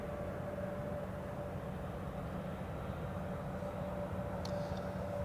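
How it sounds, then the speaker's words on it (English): An Embraer airliner taxis at Zurich Airport with a steady, distant engine drone under a constant whine. The rumble holds evenly throughout, and a few faint high chirps come near the end. "here we have the Embraer taxiing into the parking position"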